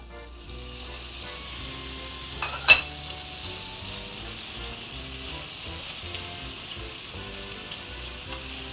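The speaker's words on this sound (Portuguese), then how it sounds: "Vamos agora fritar o bacon" Bacon fries in a dry pan without added fat, a steady close crackling sizzle with one sharp clatter partway through, and no talk.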